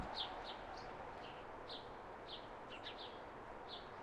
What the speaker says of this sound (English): Some morning birds, yeah.